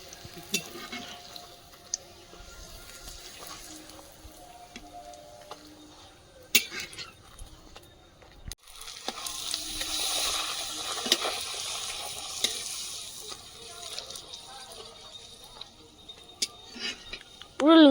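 Eggplant slices fry in hot oil with a steady sizzle that swells and fades, broken by sharp clinks of a utensil against the pan and a brief burst of louder crackling near the end.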